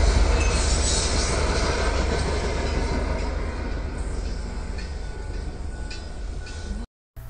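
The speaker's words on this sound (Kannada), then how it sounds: "ಟ್ರೈನ್ ಪಾಸ್ ಆಗೋದನ್ನು ವಿಡಿಯೋ ಇನ್ಕ್ಲೂಡ್ ಮಾಡಿದ್ದೀನಿ" A train rolls past close by near a railway station beside the Guruvayurappa temple, a loud continuous rumble of wheels on rails with faint squeals, steady for about seven seconds before cutting off abruptly.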